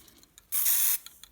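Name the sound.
spraying gloss varnish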